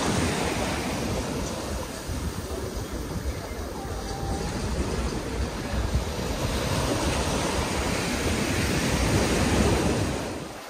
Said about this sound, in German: Und hier nochmal der Blick zurück auf den Strand von El Cortecito.